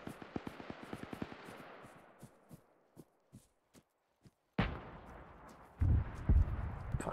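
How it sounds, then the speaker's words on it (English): A Shilka anti-aircraft gun fires in Arma 3 with a rapid string of sharp cracking shots that thins into scattered single reports, then heavy close blasts and rumbling impacts break in near the end. "Shilka's firing on our tank."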